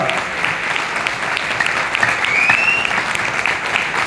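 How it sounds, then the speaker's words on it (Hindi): Loud, dense applause from a seminar audience rolls on steadily throughout, many hands clapping together at close range with no clear speech over it. "जोरदार तालियां बजाइए"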